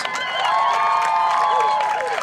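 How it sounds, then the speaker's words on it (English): A rally crowd cheers and whoops with scattered clapping, several raised voices calling out together loudly over a short burst. "Give Chad another round of applause."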